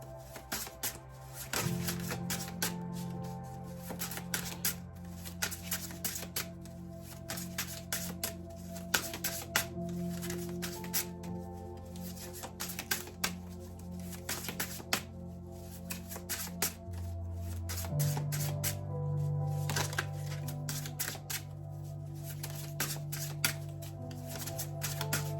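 Tarot cards riffled and shuffled over and over for a long stretch, a dry flapping clatter with bursts of sharp snaps, close by over a low steady hum.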